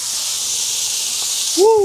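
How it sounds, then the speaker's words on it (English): Beef steak hits a hot oiled pan with a loud, steady broadband sizzle that holds throughout, close and alone, with a brief voiced exclamation near the end. "Let's sear this meat."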